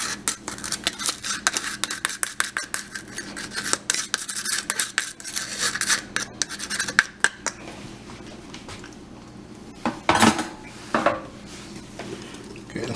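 A spoon stirs cream cheese mixture into brownie batter in a bowl, making quick scraping and clinking strokes close up that fade into softer, quieter mixing, with no talking.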